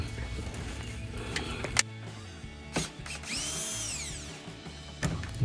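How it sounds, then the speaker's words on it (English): Bumper screws being backed out with a power drill during a rear diffuser install on a 2015-2023 Dodge Charger SRT, heard as short whirring bursts near the mic with clicks and metallic handling noise between them. "We got 4 screws down here, so we'll pop these 4 screws out here."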